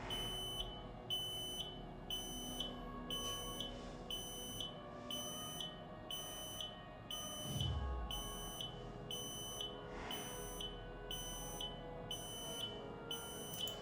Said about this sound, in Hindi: नेक्स्ट है buzzer.py, जिसके थ्रू क्रोपाई 3 में बजर एनेबल होगा।